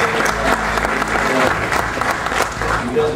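Warm applause from an audience at a ceremony, with loud clapping rising and falling in short bursts while a voice talks over part of it.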